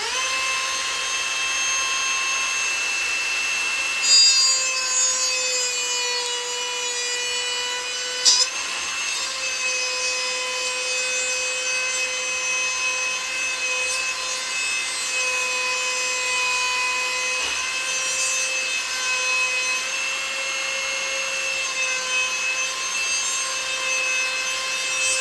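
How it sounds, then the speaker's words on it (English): A large drill fitted with a sanding disc runs continuously against a wooden pinball playfield during restoration, a steady loud whining grind with slight pitch shifts and occasional bumps. "See if I can't get this started with this bigger drill or sanding disc."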